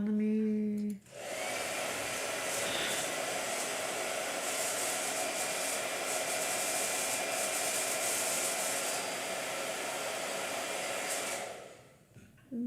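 A blow dryer switches on after a brief voice and roars steadily for about ten seconds, a loud, even airy whoosh, then cuts off near the end.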